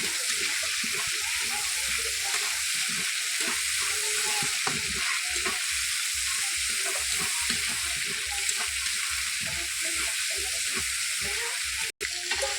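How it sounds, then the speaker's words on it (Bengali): Prawns and chopped banana flower fry together in a pan for a Bengali mocha dish, a steady loud sizzle and crackle running throughout, with a brief sharp clack near the end. "চিংড়ি মাছ দিয়ে একসাথে ভাজা ভাজা করে নেবো।"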